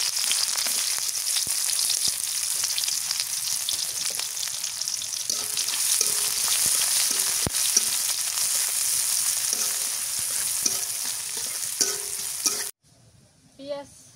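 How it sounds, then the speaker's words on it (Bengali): Chopped onion and bay leaves fry in oil, a loud continuous sizzle with a few stirring clanks, then the noise cuts off abruptly near the end, leaving quiet. "পেঁয়াজ তেজপাতা ভাজা হয়ে গেছে"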